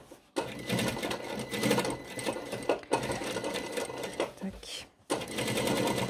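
Sewing machine stitching a seam across the front shoulder of a jacket, running in long loud steady bursts with brief stops between runs; a voice speaks briefly over the whirring.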